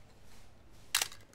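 A Canon FTb QL film camera fires its shutter at 1/60, a single sharp mechanical click with a brief rattle, close and crisp against a quiet room.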